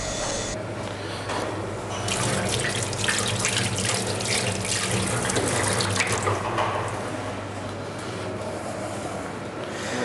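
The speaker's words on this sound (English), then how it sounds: "just wash this knife" Tap water runs steadily into a kitchen sink while a knife is rinsed under it, a continuous close splashing wash with shifting spatter and no voices.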